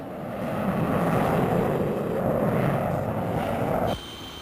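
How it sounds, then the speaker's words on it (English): RAF Canberra jet bombers from 1951 pass as a sustained, loud, broad roar that swells and holds steady for about four seconds before cutting off sharply. "And now the jet bombers of the RAF are coming along."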